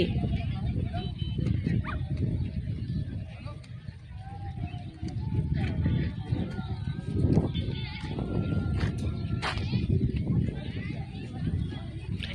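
A dog barks and yips intermittently in a busy outdoor setting, fairly close, mixed with people's voices and steady background noise.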